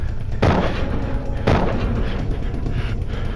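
Two heavy revolver gunshots ring out about a second apart, booming and close over a steady background rumble.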